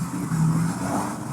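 A Dodge Charger with a loud aftermarket exhaust revs nearby, a brief throaty surge rising and holding under steady road and wind noise.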